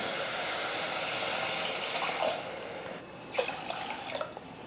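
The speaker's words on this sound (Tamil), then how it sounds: "ஒரு டம்ளர் அரிசிக்கு வந்து நான் ரெண்டு டம்ளர் வந்து தண்ணி சேர்த்துக்கிறேன்" Water is poured into a pan of sautéed masala for tomato rice, a steady rushing hiss, close and fairly loud, then a few splashes and drips as the pour ends.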